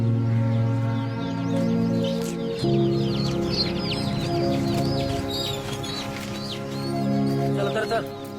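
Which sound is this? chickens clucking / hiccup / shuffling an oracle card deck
chickens clucking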